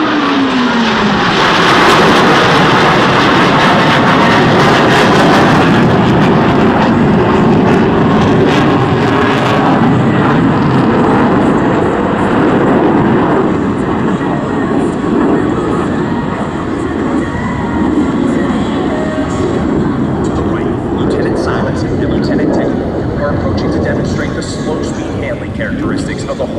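Blue Angels F/A-18 Hornet jets at the 2012 Sioux Falls airshow roar loudly and steadily through a barrel roll, a sustained broadband jet rumble that swells early then holds, with an announcer talking over the PA throughout.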